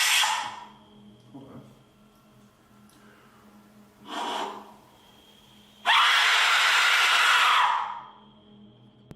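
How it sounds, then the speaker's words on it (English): An Aztec death whistle lets out a loud, harsh shrieking scream lasting about two seconds, following a few softer breathy hisses and bursts in a quiet, humming setting. "now it's time for a scream with an Aztec whistle"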